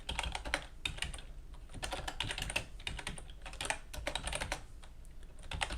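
Fingers type quickly on a computer keyboard at a desk, producing close, rapid, uneven clicking keystrokes that continue steadily with no one speaking.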